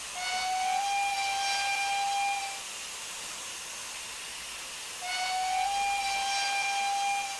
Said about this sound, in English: Yeah, I'm not overly impressed on the steam effects there.